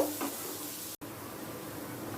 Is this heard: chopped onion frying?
yes